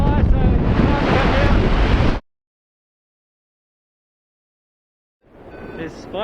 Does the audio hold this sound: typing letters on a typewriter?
no